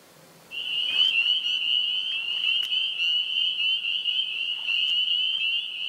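A chorus of spring peepers calls from a vernal pool on an early-spring night, a dense continuous high peeping that starts abruptly and fills the scene, with occasional sharper nearby peeps standing out.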